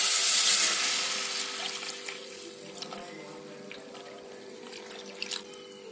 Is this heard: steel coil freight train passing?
no